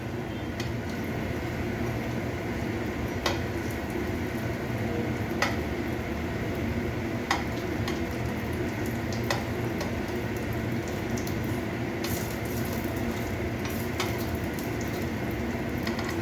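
Eggplant slices fry in a pan with a steady low crackle and bubbling hiss, with faint scattered ticks and pops throughout and no voices.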